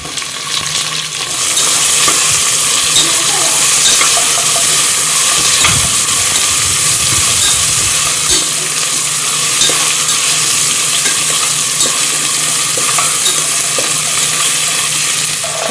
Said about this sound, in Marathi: कांदा भाजला त्याच्यात आपण टोमॅटो टाकायचा.